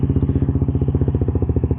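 A Suzuki GSX-R150 with an R9 Misano racing exhaust idles close and loud, a steady, rapid, even pulsing thrum with no voices.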